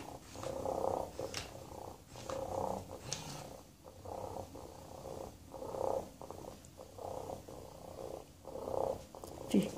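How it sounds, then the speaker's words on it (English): A Hasbro Joy For All robotic companion cat purrs in soft, repeated rumbling pulses, a low, quiet mechanical purr recurring roughly every second or so, heard close and alone. "he pushes his head towards your hand and purrs"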